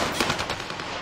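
Dense automatic gunfire in the Call of Duty Warzone video game, a fast, steady rattle of shots with no breaks, continuous throughout and moderately loud.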